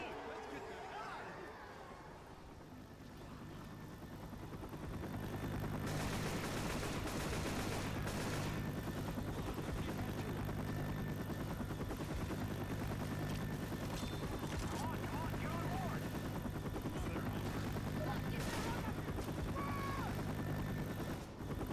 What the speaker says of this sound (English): The chopper's here. About time, too.